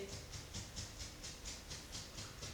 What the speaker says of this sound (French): ça c'est le chien qui se gratte